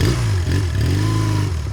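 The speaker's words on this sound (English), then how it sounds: "Listen to the exhaust though on this. It's a true dual exhaust on this." Twin-cylinder 1987 Honda Rebel 250 with a single carburetor idling through its true dual exhaust, a steady, loud low rumble with slight lumpy pulses and faint mechanical clatter, heard close and alone.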